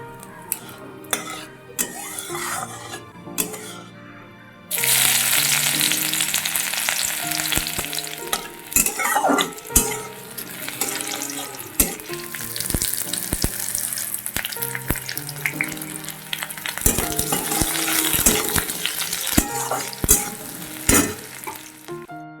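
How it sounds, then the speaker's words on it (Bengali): Tempering spices hit a pot of nearly cooked lentil dal with a sudden loud sizzle after a few quiet clinks, then the frying hiss carries on steadily with occasional stirring and utensil knocks, and no one speaks. "ডালটা প্রায় সেদ্ধ হয়ে গেছে, ডালে এখন ফোড়ন দেব"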